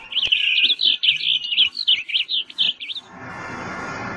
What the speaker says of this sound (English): Get out of here, stupid bird.